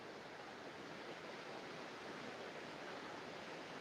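Soft, steady rushing water flows continuously and faintly during a Hatha yoga breathing meditation, with no talking and no change in level.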